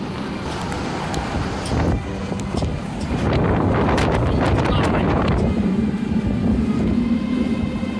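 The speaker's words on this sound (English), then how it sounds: "The wind's blowing about 100 plus miles an hour." Strong storm wind, reported at over 100 miles an hour, roars and buffets against a high-rise building, a loud continuous rush with gusts that swell toward the middle.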